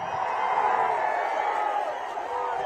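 Large crowd at an outdoor TDP public rally in Gurazala, a continuous dense wash of cheering and clapping held steady at a moderate, distant level.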